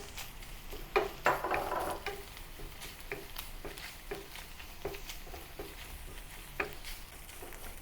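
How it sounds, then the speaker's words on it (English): A metal spatula stirring and breaking up ground pork with garlic in a pan over low heat, a few sharp scraping clatters early on, then soft repeated scrapes over a gentle sizzle. "Use the spatula to break down the ground meat and fry it until slightly golden."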